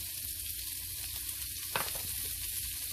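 Onions fry in a pan for stuffed pork chops, giving a steady, bright sizzle close up. One brief clatter, like a utensil or food hitting the pan, breaks in partway through, with no talking.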